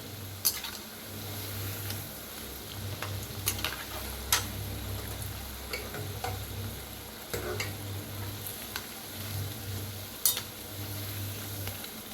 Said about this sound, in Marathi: तर खालीवर असं करत तळून घ्यायचं म्हणजे एकसारखं तळलं जाते